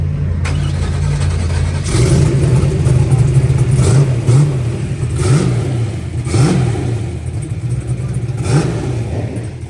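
A Nova drag racing car's engine running with a vibration, loud and close, a steady rumbling drone broken by several rhythmic revving surges.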